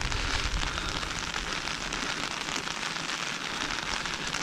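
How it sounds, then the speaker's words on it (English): Steady rain falls on a cold day at the Cold Harbor battlefield, a dense, even hiss of drops on surfaces that runs unbroken throughout with no voices. "Too bad it's a cold, rainy day today."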